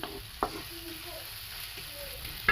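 Bottle gourd kofta masala roasting in oil makes a faint, steady sizzle, with a couple of brief scrapes or taps of a spoon in the pan.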